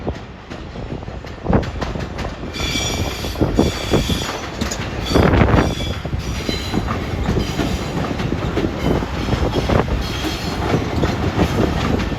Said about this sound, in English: Train 171, Babylon to Penn Station Express.